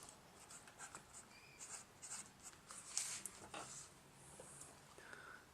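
Faint scratchy pencil or pen strokes as a measurement is written onto a timber frame for a tiny house, in short quiet bursts close by.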